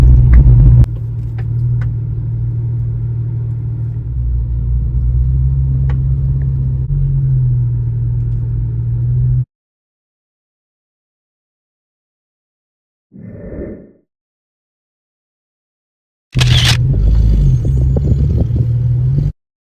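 A car rumbles as it pulls up, its engine idling low and steady with a few clatters before cutting off; after a silent gap comes a short muffled thump, then a loud burst of rustling and handling noise close by.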